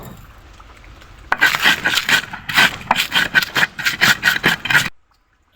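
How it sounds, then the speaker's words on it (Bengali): A pestle grinds dried chillies and salt in a clay mortar, giving about a dozen rhythmic scraping, grinding strokes that begin after a quiet second and stop abruptly near the end. "মাটির বাটনাতে প্রথমে শুকনা মরিচ লবণ দিয়ে ঘটনার সাহায্যে বেটে নেব"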